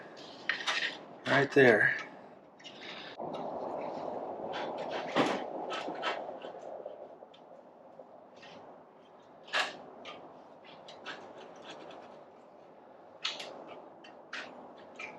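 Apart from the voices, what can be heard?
fitting an Arrow slip-on exhaust pipe onto a Yamaha MT10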